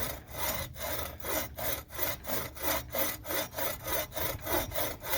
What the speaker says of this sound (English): he's going to start that with this bow saw that probably dull as it can be